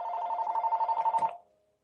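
A telephone rings with a rapid trilling bell tone for over a second, then cuts off abruptly with a brief clunk as it is silenced, heard alone during a quiet board meeting.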